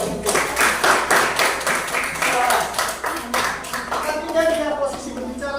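A classroom audience applauds a student group after a short-story presentation during a teaching-practice session, a steady wash of clapping lasting several seconds with voices mixed in.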